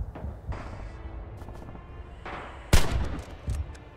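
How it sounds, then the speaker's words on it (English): Gunfire in the video game Red Orchestra 2, multiplayer on the Bridges of Druzhina map: scattered distant shots, then one loud sharp crack followed by a few more bursts, with no talk. "What the hell's shooting?"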